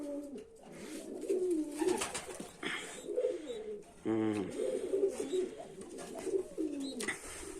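A domestic pigeon coos in repeated throaty phrases close by, the soft rolling calls recurring over several seconds.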